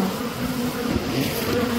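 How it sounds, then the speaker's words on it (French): Angry bees at a beehive make a dense, steady, loud buzzing that fills the whole moment without a break. "nous sommes devant des abeilles très en colère"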